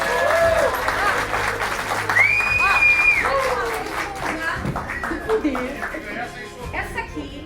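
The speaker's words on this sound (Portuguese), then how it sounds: "Gente, uma salva de palmas pra ela." At a fan convention, a crowd applauds and cheers a young cosplaying girl, with close lively clapping, voices calling out over it, and the applause tapering off toward the end.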